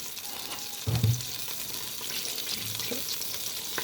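Butter frying in a pan for a biryani tempering gives a steady hissing sizzle, with a stirring clatter of a utensil near the start and a few soft knocks later.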